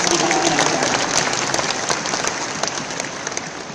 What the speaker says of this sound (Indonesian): Tepuk tangan buat Anda yang akan siap mengangkat kehidupan Anda.